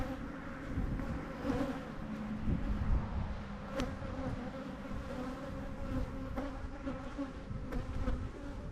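Steady, low buzzing of many honeybees close by, a continuous hum with no voices.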